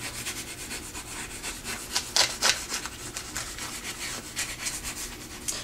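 A tool rubs with steady strokes over a vinyl transfer on an Easter wall hanging, making close, dry scraping strokes in an uneven rhythm.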